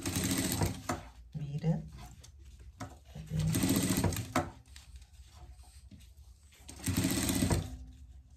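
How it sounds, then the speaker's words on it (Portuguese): An overlock sewing machine stitches a raincoat in three loud, steady bursts with quieter handling and fabric rustle in the pauses between runs. "Se você tiver overlock, você passa overlock."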